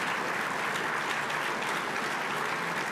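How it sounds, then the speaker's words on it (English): An awards show audience, gathered for a regional Emmy honors ceremony, applauds continuously with dense, even clapping that fills the room from start to finish, no voices standing out. "let's just give one last big round of applause to all of the people that we've had up here on stage"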